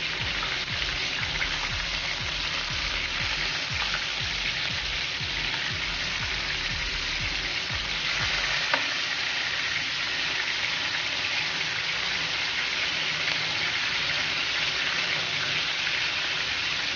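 Beef sizzles steadily in a frying pan, a continuous crackling hiss that carries on for the whole stretch, with faint occasional stirring knocks and no voices.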